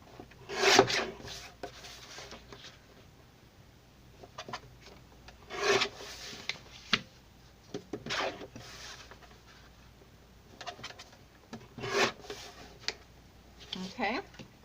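Paper being cut to size for a scrapbook layout, with repeated short rasping slices and scraping strokes spaced across the stretch, fairly close and moderately loud, and quiet background noise between the cuts.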